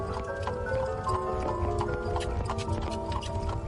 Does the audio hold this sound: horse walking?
yes